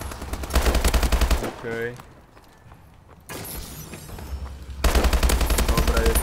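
Automatic STG 44 rifle fire in Call of Duty Advanced Warfare: two loud, rapid bursts of gunshots, one at the start and one at the end, separated by a quieter stretch with a brief spoken word.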